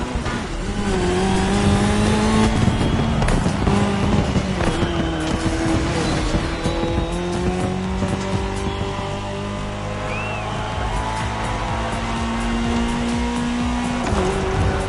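Rally cars, including a Ford Puma Hybrid Rally 1 electrified rally car, race in The Crew Motorfest video game, engines revving loud and continuous with repeated gear-change pitch sweeps and tire squeal throughout.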